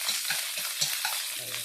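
Ingredients for chicken noodle soup browning in a hot pan, a steady close sizzle of frying with a few brief stirring scrapes and no talking.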